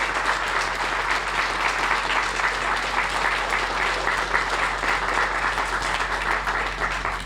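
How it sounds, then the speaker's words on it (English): Audience applause at a homeless shelter groundbreaking ceremony, a loud, dense, steady clapping from a crowd that continues without a break for several seconds. "Please, a round of applause for both these."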